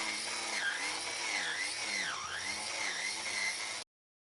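A Ryobi 18V One+ edger runs on a cheap Chinese battery, sped up tenfold, giving a steady high whining motor drone with wavering pitch that cuts off abruptly at the end.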